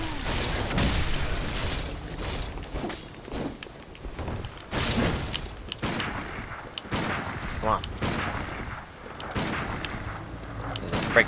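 Rapid gunfire and sharp impacts trade back and forth during a player duel in the video game Bloodborne, with dense bursts of shots and crashing hits running throughout, loud and close, while a player talks over the action.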